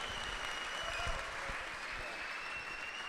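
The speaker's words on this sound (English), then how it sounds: "We could clap for that." Steady applause from an audience at a Bitcoin talk, a dense wash of many hands clapping at an even level for a few seconds, with no voices standing out.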